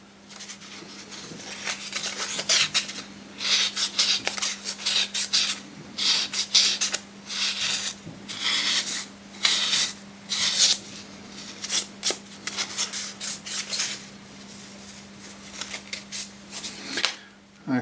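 Hand-sanding the inside of a coin ring with 1200-grit abrasive: short, brisk rubbing strokes come in repeated bursts over a steady low hum, close and moderately loud.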